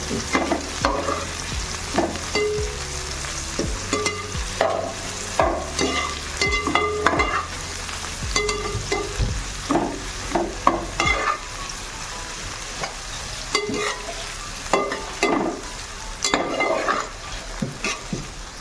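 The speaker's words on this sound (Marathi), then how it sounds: "थोड्याशा मोठ्या फोडी ठेवल्यात आपण टोमॅटोच्या तो सुद्धा छान परतून घेऊया" Large tomato pieces are sautéed and stirred in a pan, giving a steady sizzle broken by repeated scraping and clattering strokes of a spoon, close and fairly loud, with no talking.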